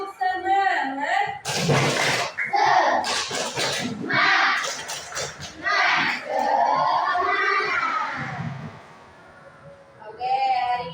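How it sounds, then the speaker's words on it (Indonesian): Schoolchildren in a grade 4 classroom perform a rhythmic clapping chant, with sharp bursts of claps mixed with shouted group voices, loud and close, followed by an adult voice speaking. "Tepuk semangat."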